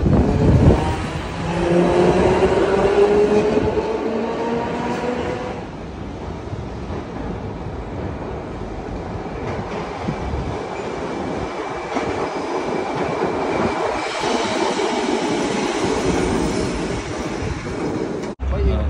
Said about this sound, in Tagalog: It's an old train.